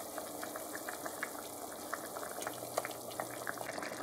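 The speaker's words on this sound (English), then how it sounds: "our stew has been bubbling away there for a bit" Butterfish stew bubbling in a pot on the stove, a steady close simmer of soft popping and gurgling bubbles with faint sizzle, no voices.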